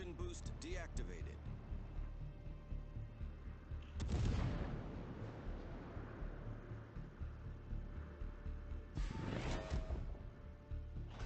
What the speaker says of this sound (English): he continues to fire at Conqueror whenever he's visible